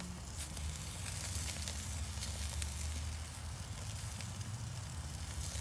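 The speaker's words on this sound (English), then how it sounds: "I like to sear that fat some" Ribeye steak fat searing on a wood-fired grill gives off a steady, close sizzle and crackle that holds evenly throughout, with no talking.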